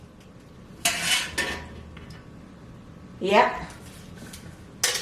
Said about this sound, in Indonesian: Dan ini adalah racknya. Kita masukkan rack pertama